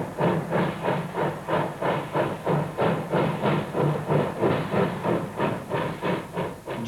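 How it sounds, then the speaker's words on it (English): Steam locomotive J1211 runs under her own steam, exercising coupling rods and pistons, with a rapid, even chuff-and-hiss beat of exhaust pulses repeating steadily, loud and close with no talk. "a loco is allowed to build up a head of steam and exercise her coupling rods and pistons."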